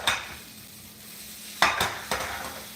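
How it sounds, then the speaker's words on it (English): A soft hiss of onions frying in hot oil runs underneath, broken by a few sharp clinks and scrapes of a utensil against a pan. "I heard some sizzle."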